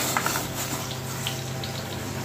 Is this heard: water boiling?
yes